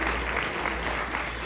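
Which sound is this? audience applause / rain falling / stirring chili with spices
audience applause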